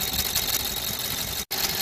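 A BMW N43 petrol engine with piezo injectors idles steadily while warming up, with the bonnet open and the engine cover removed. It gives a loud, close, dense ticking clatter with a brief cut near the end.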